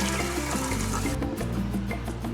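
Water runs and splashes as rice is rinsed in a pot to wash off the starch at a truck camper campsite in Baja, a steady close pour with no talk.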